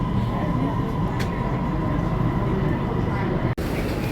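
A steady, loud rumble and roar of a Bangkok MRT underground train in motion toward Bang Sue fills the space, with a brief dip near the end.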